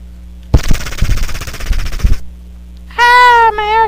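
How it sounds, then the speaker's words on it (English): Rapid automatic gunfire from the video game Eddie Stickman 3 rattles loudly for about one and a half seconds with several heavy bursts, followed by a short high electronic tone. "I'm gonna shoot a cop now."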